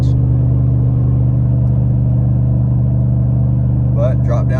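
A pickup truck engine rumbles steadily while cruising in fifth gear and easing off speed, a loud continuous low drone filling the cab, with someone talking faintly near the end.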